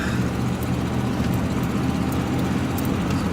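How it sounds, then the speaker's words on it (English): A 1991 Ford F350 truck's engine runs steadily while driving, a low, even, quiet drone heard from inside the cab with faint road noise and no talk. "All right, pulling out in the 1991 Ford F350."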